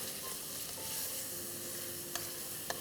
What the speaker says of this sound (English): Fry it for a minute.